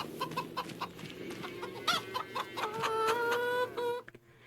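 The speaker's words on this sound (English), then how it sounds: "Let's check on our chickens." Chickens cluck in the video game Farming Simulator 25, with repeated clucks and a few drawn-out calls, fairly close and clear, heard alone with no talking.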